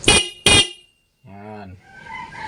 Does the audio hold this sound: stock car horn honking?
yes